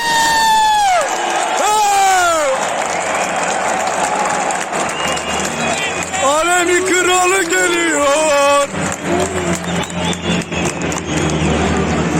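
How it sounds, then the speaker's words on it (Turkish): Football fans at a stadium for a Steaua Bucharest versus Cluj derby, loud sustained shouting and chanting from a dense crowd with rising cheers, close and continuous. "Yüksek sesle bağırıyoruz."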